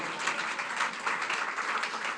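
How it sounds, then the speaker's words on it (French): Church audience applauding loudly for the glory of the Lord during a sermon, a continuous dense patter of clapping across the short stretch. "On peut applaudir très fort pour la gloire du Seigneur."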